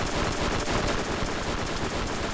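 Gunfire from an oversized weapon firing a giant bullet fitted with a giant clip mod in the Borderlands video game, a dense, continuous roar of rapid shots holding loud and steady throughout without pause.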